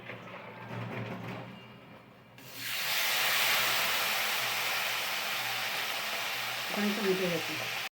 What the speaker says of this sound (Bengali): ওটার জন্য আলুগুলোকে আগে ভেজে নেওয়া হচ্ছে